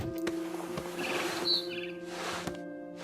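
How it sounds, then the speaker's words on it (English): A barn swallow chirps outside a window in the video game What Remains of Edith Finch, with short, faint high calls over a steady ambient game hum and soft background tones. "Then I heard chirping outside my window. It was a barn swallow going back to her nest."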